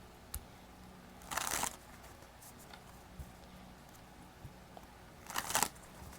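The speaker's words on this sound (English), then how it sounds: "One more shuffle here." Two quick riffles of tarot cards being shuffled, a second apart from several quiet seconds, with a few faint taps in between.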